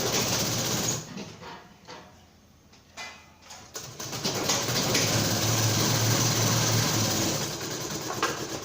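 A sewing machine stitches a boat-neck blouse with a princess cut. It runs in a fast, steady whir close by, pauses briefly, then starts again and keeps up a continuous hum. No one talks.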